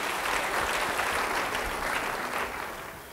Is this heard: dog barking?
no